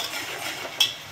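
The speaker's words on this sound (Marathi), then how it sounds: "याला पण आता पूर्ण मिक्स करून घ्यायचं आहे" A spoon stirs a paste of onion and tomato in a pan with soft, continuous scraping and gentle sizzling, and one brief clink near the end.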